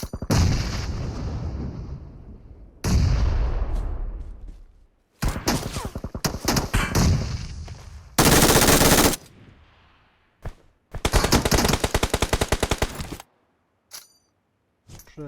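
Bursts of automatic gunfire and loud blasts from the battle game PUBG Mobile, arriving in sharp separate volleys with short silent gaps, loud and close, with no talk.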